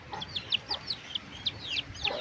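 Baby chicks peeping: high, quick chirps repeating in an irregular series, close and clear, with soft clucking underneath and no voices.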